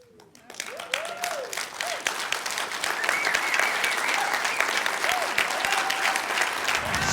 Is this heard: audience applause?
yes